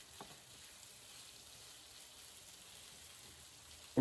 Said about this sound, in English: So we're just gonna let this thing fry up.